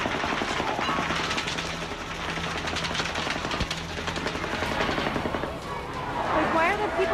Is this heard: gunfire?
yes